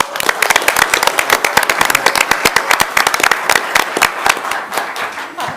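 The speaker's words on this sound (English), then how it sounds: "So let's give him another round of applause." An audience at a city council business meeting gives a round of applause, a loud, close run of sharp individual claps with an uneven rhythm that thins out toward the end.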